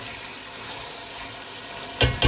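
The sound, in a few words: chicken frying with spices for chicken korma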